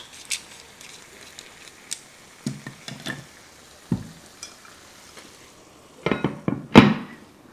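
Aubergines cook in a pan with a soft background sizzle, broken by scattered knocks and clatters of a utensil that grow louder and busier near the end.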